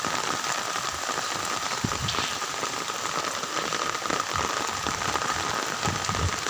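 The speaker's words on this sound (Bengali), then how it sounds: "প্রচুর বৃষ্টি হইতেছে।" Heavy rain pouring down steadily, a dense, unbroken hiss of drops drumming on surfaces, loud and constant throughout with no voices.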